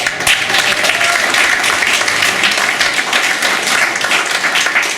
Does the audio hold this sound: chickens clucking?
no